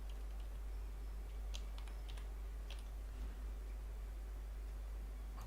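Faint, scattered keystrokes on a computer keyboard tap in a quiet room over a steady low hum, with short irregular bursts of clicks and no talking.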